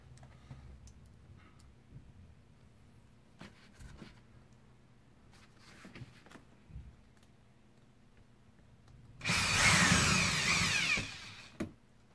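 A power drill drives screws into vinyl J-channel for a comic book display, heard as one loud whirring burst of about two seconds after quiet handling ticks and taps, with a short clack at the end.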